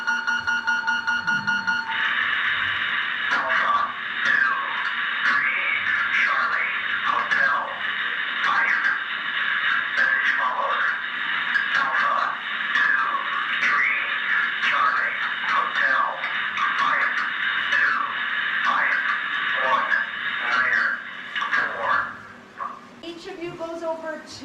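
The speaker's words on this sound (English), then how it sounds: "emergency action message that would be the call to arms for everybody to be ready to mobilize" A Strategic Air Command emergency action message comes in over a radio at a Titan missile site, with a tone followed by a narrow-band, crackly voice reading a long message steadily for about twenty seconds.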